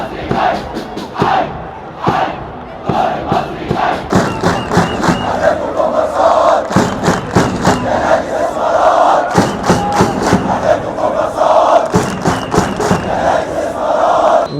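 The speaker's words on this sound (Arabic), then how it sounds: "وزي ما كان ده اول هتاف ليهم في الماتش، برضو ده كان اخر هتاف ليهم في الماتش." Al Ahly football fans in a packed Egyptian league stadium chant loudly in unison, a dense crowd roar with rhythmic clapping and shouted beats running continuously throughout.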